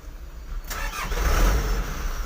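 Hino 300 truck engine with a stalling fault, near and moderately loud, abruptly cranks and catches, then runs in a rough, rumbling idle.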